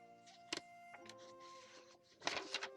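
A sewing machine stitches a paper tag onto a junk journal page in short whirring bursts separated by brief pauses, fairly quiet and close.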